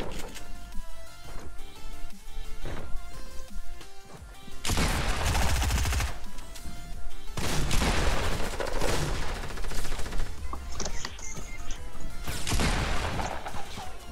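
Gunfire and sniper shots in Fortnite Battle Royale, with bursts of loud, dense shooting and crashing impacts breaking in over the game's music and effects, separated by quieter stretches.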